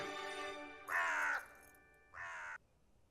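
A crow gives two loud, harsh caws close by, each about half a second long, separated by a short pause, with a quiet background and no voices.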